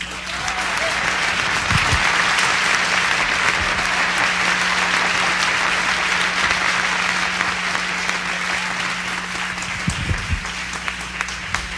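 Concert audience at a 1976 Latin music show applauds the drummer, a dense, loud, sustained wash of clapping with a few whoops, and a voice speaks briefly near the end.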